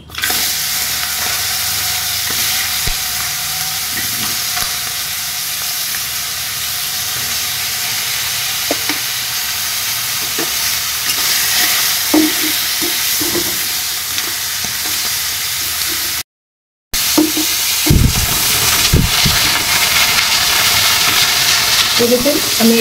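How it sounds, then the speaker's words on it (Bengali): Crabs fry in hot mustard oil in a wok, giving a loud, continuous sizzle and hiss with occasional stirring clatters, broken by a brief cut of silence before the frying resumes with heavier scraping. "এরপর আমি কাঁকড়াগুলো ভেজে নেব।"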